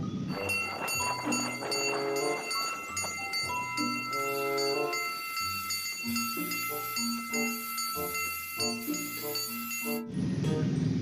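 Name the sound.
toy train locomotive sound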